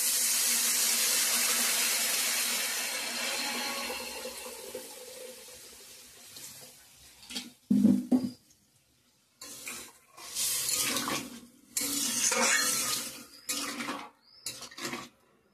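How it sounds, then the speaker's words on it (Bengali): Hot water poured into a pan of taro and potato curry cooked with spices in oil, a steady loud splashing pour for several seconds, followed by sizzling bursts and clattering pan sounds up close. "জল অ্যাড করব এখন, গরম জল।"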